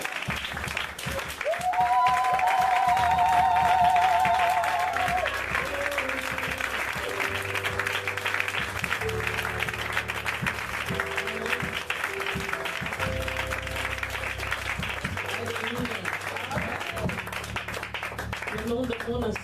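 A church congregation at a prayer day for the peace of Jerusalem claps and applauds to acclaim the Lord, sustained dense applause lasting throughout, with voices and sustained musical tones underneath.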